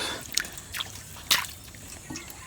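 A few scattered drips and small splashes of water around a bucket being filled at a village water source in Nigeria, quiet and close, with soft background hiss between the drops.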